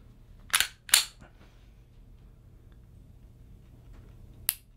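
A Springfield XDS .45 pistol trigger gives three crisp, close clicks, two in quick succession and a third after a quiet pause.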